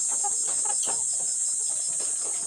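Layer chickens on a farm cluck in a steady, continuous flock chorus, with scattered individual clucks rising over a constant high-pitched background hum and no talking.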